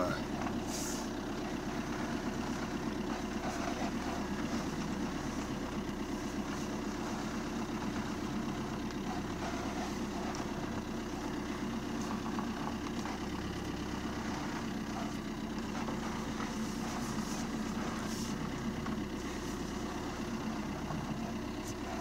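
A Fiat engine runs at a steady idle while the steering wheel is turned with a power steering warning light on, a low continuous hum at moderate distance with no clear voices.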